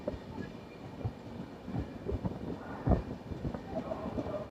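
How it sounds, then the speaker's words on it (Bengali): A passenger train departing Sheoraphuli station rumbles and clatters close by, with irregular knocks and rattles over a steady low roar and some wind buffeting. "ট্রেন আমাদের বেরিয়ে গেল শেওড়াফুলি থেকে।"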